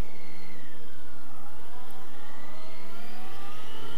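A four-cylinder motorcycle engine revs out on the road, a continuous high whine with rising pitch sweeps over wind rush, close and steady throughout.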